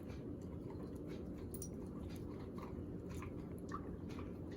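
A dog chews and crunches on a homemade strawberry banana treat close by, with soft biting and mouth sounds under a low, steady background rumble.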